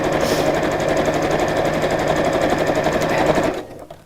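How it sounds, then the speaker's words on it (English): A sewing machine stitching fabric at its longest stitch length, a loud fast mechanical rattle running steadily for several seconds before stopping abruptly. "Lengthen up to the longest stitch, which is 5 on this machine, and sew down to about 2 inches from the opposite end"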